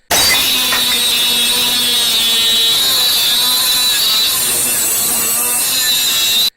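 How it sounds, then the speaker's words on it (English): A power drill unscrewing ceiling panels inside a bus being converted, giving a loud, steady high-pitched whine that runs continuously and close, with no pauses. "Time to get out the power tools."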